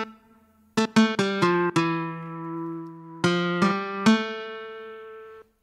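Plucked nylon-string guitar tones from the Postcard Nylon preset of the Vinyl Guitar 2 software instrument in Reaper, a few crisp notes and chords that ring out and decay, clear and close with no talk.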